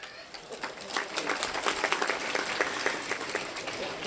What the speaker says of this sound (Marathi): का बरं टाळ्या वाजवताय तुम्ही?